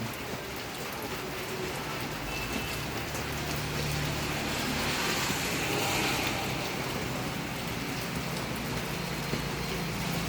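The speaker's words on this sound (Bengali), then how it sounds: "প্রচুর বৃষ্টি" Heavy rain pours down steadily over an empty market, a loud, even hiss of drops on surfaces that holds without a break from start to finish.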